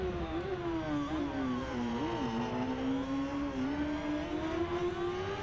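A racing motorcycle, a BMW S1000RR in a race of sixteen bikes on a track, holds a loud, steady high engine whine that rises and wavers as it accelerates, close and continuous for the whole stretch.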